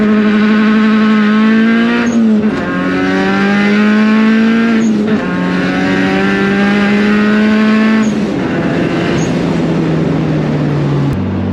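A turbocharged car accelerating hard from inside the cabin, the engine droning loudly and climbing in pitch through three gear changes, each shift marked by a brief dip and a turbo blow-off hiss.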